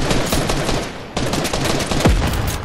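Dense bursts of gunfire from the video game Fortnite crackle loudly and rapidly, with overlapping shots and a brief lull near the middle.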